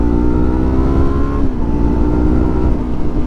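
A 2020 Yamaha R3 with its 321cc engine runs close and loud, its revs rising and falling in a steady, buzzy drone with no one talking over it.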